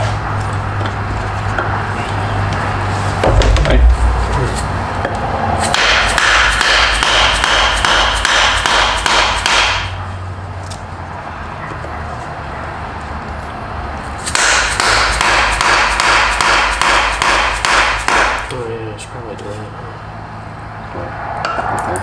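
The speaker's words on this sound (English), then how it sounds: "We're just gonna hammer it back on." Two long bursts of rapid metallic hammer strikes tapping a KW H.A.S. suspension collar onto a BMW G80 M3 strut, steady and fast, separated by a pause with low mechanical hum underneath.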